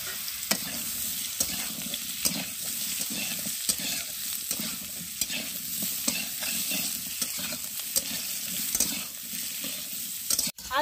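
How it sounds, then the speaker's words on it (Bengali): Potatoes fry in a pan of oil left from frying fish for a Shillong fish curry, giving a steady close sizzle throughout with periodic scraping and stirring clicks, and no voices. "এই মাছ ভাজা তেলে আমি আলুগুলোকে একটু ভেজে নেব।"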